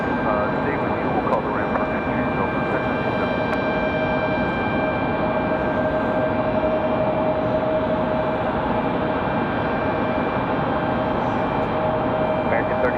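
A Spirit Airlines Airbus A320neo from Fort Lauderdale, heard at Raleigh Durham International Airport, gives off a steady, continuous jet-engine roar with a sustained whine, fairly loud and unbroken throughout.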